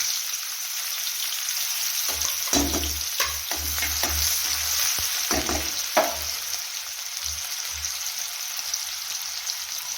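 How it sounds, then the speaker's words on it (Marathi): Finely chopped onion frying in hot oil with a pinch of cumin, a steady close sizzle with a cluster of scraping stirs in the middle, and no one speaking. "टाकून घेऊया बारीक चिरलेला कांदा"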